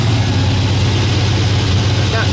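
A GMC Sierra truck engine with a newly fitted turbo idles loud and close, a steady low rumbling drone that holds even throughout with no breaks.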